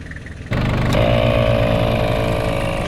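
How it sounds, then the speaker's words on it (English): A portable air compressor pumping up the tyres of a Toyota 4Runner kicks on abruptly and runs as a loud, steady, droning motor hum with a rattling pulse, close by and with no voices. "Great to be able to pump up your tyres before you hit the tarmac."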